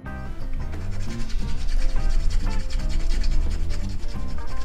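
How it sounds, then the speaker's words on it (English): Sandpaper rasps in steady, rhythmic back-and-forth strokes over a hardened Milliput model, close up and fairly loud, with no talking. "now we're going to crack on with everybody's favourite bit, sanding"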